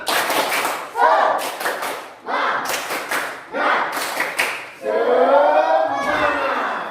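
A class of children claps in short rhythmic bursts with pauses between, loud and close, with children's voices mixed in and a cheer at the end.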